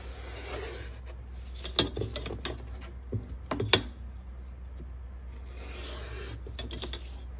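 Vintage kite foundation paper trimmed by hand, with a few close, crisp snips and rustles standing out over a steady low hum and quieter handling sounds.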